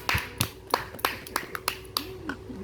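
A small child clapping hands, about eight sharp, uneven claps close by, with faint background voices.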